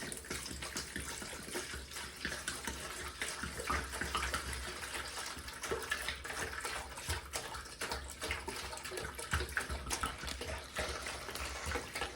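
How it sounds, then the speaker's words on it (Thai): Water pours and splashes steadily into a container while making Thai iced coffee, a continuous rushing gurgle heard up close without any talking. "อันดับแรกเราต้องเทน้ำก่อนค่ะ"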